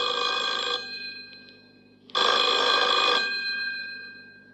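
A telephone bell rings in two loud bursts with a pause between them, the ringing alone with no voices over it.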